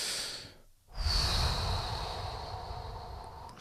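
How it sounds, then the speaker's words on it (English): Slow, deep breaths drawn into the belly during a guided healing relaxation, a long airy inhale swelling after a brief pause and holding steady, close and fairly loud with no talking. "breathing deeply into my belly"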